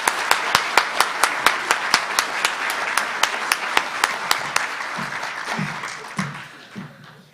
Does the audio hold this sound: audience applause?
yes